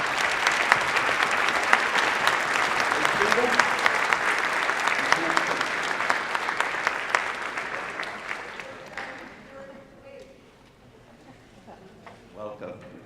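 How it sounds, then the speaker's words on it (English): Audience applause in a school auditorium, loud sustained clapping for about nine seconds that gradually fades out, with a speaker's voice briefly heard as it dies down. "I would like them to receive some applause."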